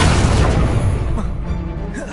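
In Hogwarts Legacy, an Incendio fire spell goes off as a loud, close, booming burst of flame that roars and slowly decays, with a little speech-like sound mixed in.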